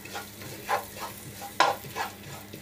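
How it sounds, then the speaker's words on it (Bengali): Powdered cashews and pistachios frying gently in ghee, with a soft sizzle and several quiet scrapes of a spoon stirring the pan at a steady, unhurried pace. "আমি কাজু এবং পেস্তা বাদামের গুঁড়ো ঘিয়ের সাথে একটু ভেজে নিব"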